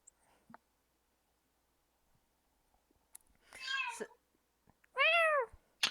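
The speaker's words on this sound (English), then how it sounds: "That's just my response anytime I hear a cat do that." A house cat meows twice in a quiet room, a softer drawn-out call followed by a louder, clear, close meow, with faint clicks and small rustles in between.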